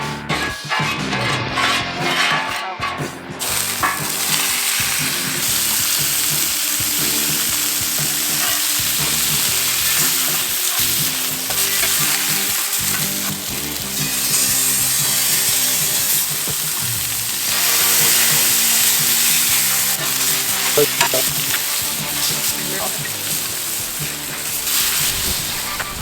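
Seasoned steak sizzles loudly in olive oil on a 17-inch Blackstone griddle, a continuous bright hiss with occasional scraping and stirring clatter, no talking.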